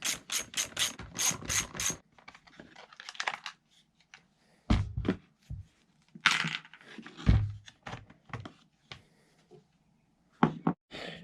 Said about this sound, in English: Now the first thing we got to do is remove the two nuts that hold the air box in place.